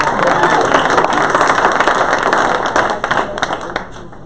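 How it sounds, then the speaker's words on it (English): Audience applause at a panel event on securing government contracts, a dense, loud wash of clapping from a crowd that stays steady, then thins slightly toward the end. "Round of applause for General."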